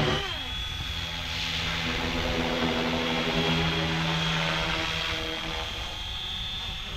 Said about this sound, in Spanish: qué precioso helicóptero